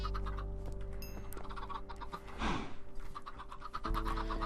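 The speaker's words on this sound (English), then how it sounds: "And then we got a whole bunch of chickens." Chickens on a farm in the video game Minecraft cluck in short, scattered bursts over a busy background of tones and game sounds, at moderate loudness.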